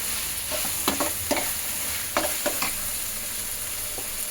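Chicken fry being stirred in a pan sizzles steadily, while several sharp scrapes and clacks of the spoon come in quick bursts, close and with no voices.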